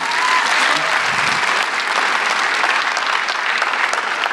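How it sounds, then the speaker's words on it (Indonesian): Dense, steady applause from a studio audience at a stand-up comedy show, loud and unbroken for the whole stretch with a faint voice briefly audible under it. "Tepuk tangan, teman-teman."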